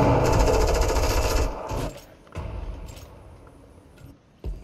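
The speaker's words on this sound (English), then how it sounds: "God, shoot the freaking gun." Rapid automatic gunfire in the video game Fortnite, a dense, loud burst lasting over a second, followed by scattered clicks and thuds as it stops, with another short sharp hit at the end.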